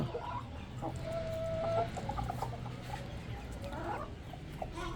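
Hen clucking softly while pecking at scattered grain, a few low clucks and a brief tonal call over steady farmyard background, moderately near, with no speech.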